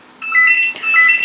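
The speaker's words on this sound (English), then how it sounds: "Oops, we have a phone call." A phone rings with a bright electronic warbling tone that repeats in quick pulses, close and loud, with no talking over it.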